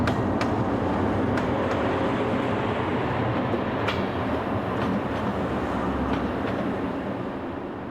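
A French train, number 27143, running north toward Le Havre, passing as a loud continuous rumble with rhythmic clicks of wheels over rail joints, steady and close throughout.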